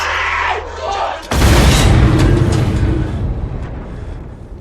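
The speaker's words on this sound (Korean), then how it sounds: "적을 제거하기 위해 결국은 포를 쏘고 만 슈물릭" A tank cannon fires in the war film Lebanon, a sudden heavy boom that erupts after a quieter stretch and rolls on as a loud explosion rumble with debris for several seconds, alone without talk.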